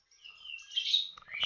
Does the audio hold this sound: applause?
no